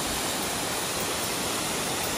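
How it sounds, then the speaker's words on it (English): A waterfall in a dense forest, a loud, unbroken broadband rush of falling water filling the scene with no voices or other sounds. "this is just an incredible waterfall"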